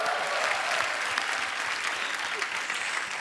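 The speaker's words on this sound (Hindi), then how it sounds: "जोरदार तालियां हो जाए एक बार" A studio audience at a televised comedy show breaks into loud, dense applause that holds steady for a few seconds.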